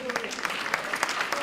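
A crowd claps at an MLK essay contest event with scattered, uneven applause, fairly faint, while a voice speaks faintly over it.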